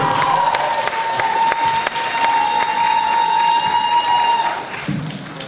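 Applause from a hall audience greets a contestant at a Ukrainian first lady pageant. Sustained clapping holds steady for about four and a half seconds, with a faint tonal whine underneath, before tapering off.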